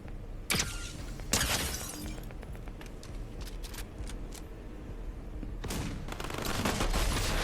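AUG assault rifle gunfire in Fortnite comes as several sharp, loud bursts of shots spread across the stretch, with quieter game noise and short cracks between them.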